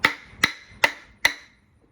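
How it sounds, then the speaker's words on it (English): Four sharp, evenly spaced metallic strikes as the blunt back of a hatchet hammers a homemade target stand, each hit ringing briefly and decaying before the next, close and clear with no talking. "you got a hatchet right here with a blunt end"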